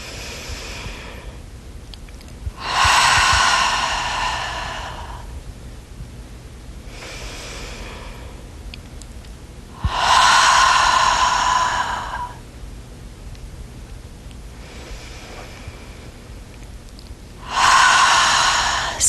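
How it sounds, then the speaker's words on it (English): Slow deep breaths during a guided relaxation exercise, three long audible exhalations spaced several seconds apart with quieter inhales between, close and alone with no talk. "let's do a few of those breaths. So breathe in the beautiful color blue, and then breathing out the red"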